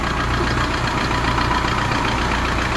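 A Kia Bongo 3 engine idles steadily after a valve seat repair, a loud, even, low rumble with a regular pulse and no misfire, running alone without voices.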